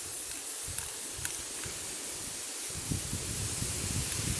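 An aerosol can of brown Rust-Oleum paint sprays onto a tree prop, a continuous airy hiss with brief pauses and faint rustling, close by and moderately quiet.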